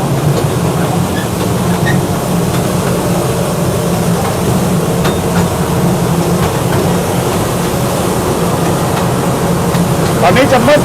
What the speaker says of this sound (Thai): รถไฟก็จะวิ่งไปเรื่อยๆ นะครับ แล้วอีกสักครู่ก็จะ ออกจากอุโมงค์ครับ